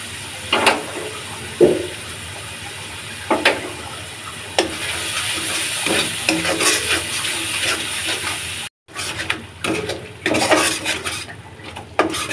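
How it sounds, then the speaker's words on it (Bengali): Turmeric, chili powder and salt being sautéed in a pan for koi fish curry, with repeated clanks of a utensil against the pan over a wet sizzle and a short break partway through. "মশলাগুলো ভালোভাবে কষিয়ে নিব"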